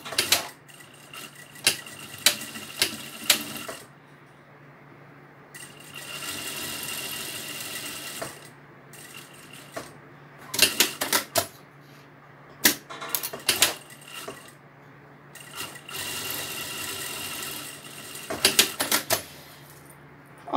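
A sewing machine stitches fabric for a vaccination-card cover in rapid bursts of mechanical clatter, close and fairly loud, with short pauses in between. No voices are heard.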